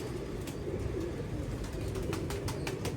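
A Teddy pigeon cooing in a low, soft, rolling call close by, over a dense background rumble with a few light clicks and flutters near the end.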